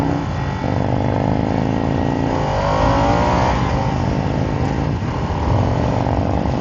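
The engine of a 2023 Harley-Davidson Nightster Special motorcycle revs up through a rising whine that climbs in pitch. It dips briefly, then builds again under a continuous loud road rumble, close by and without talk.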